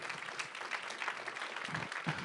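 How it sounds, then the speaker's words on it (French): An audience applauds the arrival of Christian Estrosi, mayor of Nice, at a public conference on city services, a continuous, fairly even roar of clapping with lively individual claps, heard close and without any speech. "Sous applaudissements, mesdames, messieurs"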